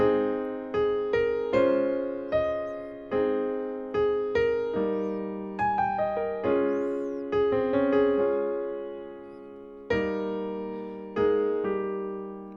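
A piano plays a steady melody with repeated left-hand chords underneath, notes struck in an even rhythm and ringing out, alone without talk.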